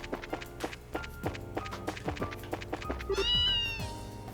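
A cat in the Trails in the Sky role-playing video game meows once, a short rising-falling cry over light rhythmic game music with soft thumps.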